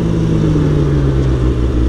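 A Honda CBR sport motorcycle with a Two Brothers exhaust idles and revs close by, a loud, steady engine drone with a firm low tone.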